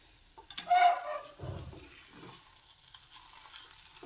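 Upma being stirred in a hot pan, with a few faint, brief scraping and sizzling bursts from the spoon against the pan amid quiet kitchen background.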